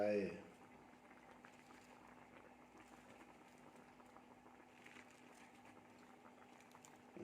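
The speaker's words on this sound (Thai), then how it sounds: "ก็ต้มไปอีกสักพักหนึ่งรอให้ผักมันสุกด้วยแหละ" Fish soup simmering in a pot with vegetables, a soft steady bubbling and patter going on quietly after a brief louder knock at the start, heard alone at low level.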